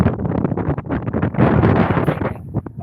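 Wind gusting across a microphone while out on a kayak on the water, a loud, continuous rumbling buffet that swells and eases over a few seconds with no voices.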